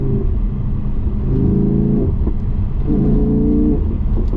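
Audi R8 V10 Spyder engine revving in two strong bursts, each climbing then falling back to a loud, rumbling idle between them, close and without talk.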